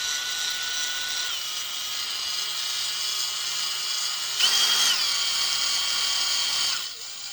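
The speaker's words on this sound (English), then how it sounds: "it looks like the drill's spinning backwards" An electric drill whines steadily at low speed while rebuilding a 1958 Gale Buccaneer 5hp outboard carburetor, its pitch briefly rising and shifting midway before dropping off near the end.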